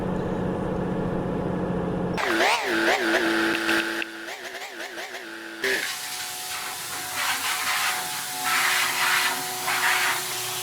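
Truck being washed at a gas station in Truck Simulator Ultimate: a droning engine tone gives way to a loud, steady hissing spray that runs on to the end.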